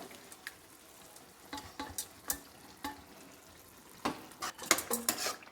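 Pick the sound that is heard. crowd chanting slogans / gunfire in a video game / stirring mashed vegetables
stirring mashed vegetables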